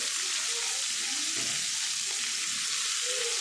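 Soaked shredded cabbage hits a hot oiled pan and is sautéed, giving a loud, continuous, close hissing sizzle with faint stirring movements underneath and no talk.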